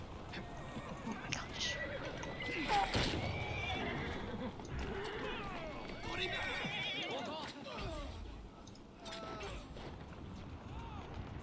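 A horse in Assassin's Creed Syndicate whinnies loudly several times amid hoof clip-clops and busy background sounds, with some voices nearby.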